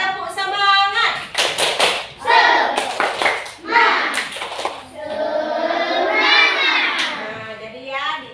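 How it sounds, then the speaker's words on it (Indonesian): Children in a third-grade classroom doing a rhythmic spirit clap, quick patterned bursts of hand claps mixed with shouted chanting voices, loud and close throughout. "Coba tepuk semangat."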